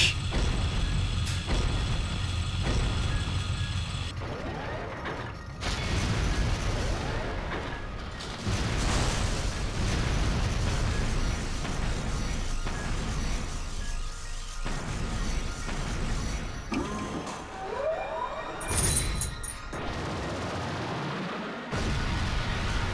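Artillery shells explode in the game Trails to Azure, a loud run of heavy booms and crashing blasts that keeps going for the whole stretch, with brief breaks and scattered debris noise.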